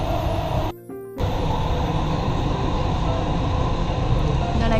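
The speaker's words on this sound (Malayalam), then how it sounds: "ഇതാണ് ആക്ച്വലി ദുബായ് മെട്രോ" A Dubai Metro train runs with a steady, loud rumble and rolling rail noise throughout, briefly dipping for a short moment near the start before resuming at full strength.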